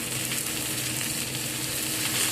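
Chopped tomatoes fry together with ginger and garlic in a hot pan, making a dense, continuous close-up sizzle that holds steady throughout.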